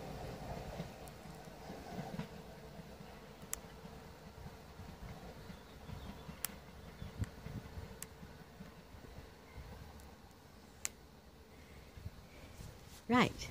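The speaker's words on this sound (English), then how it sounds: "2 465s on the front and 466031. On 2 Delta 54, the 1636 Southeastern service from Gravesend to London Charing Cross, leaving 7 minutes late" A Southeastern electric train formed of two Class 465 units with Class 466 466031 on the front departs Swanscombe on the North Kent Line toward London Charing Cross, a low, steady rumble with occasional sharp rail clicks and a faint squeal near the end.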